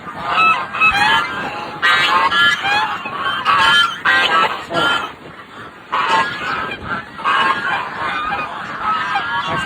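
Geese honking loudly and nearby, a dense overlapping chorus of harsh, nasal calls in irregular bursts that continue with only brief dips throughout.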